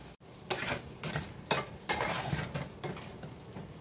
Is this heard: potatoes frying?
yes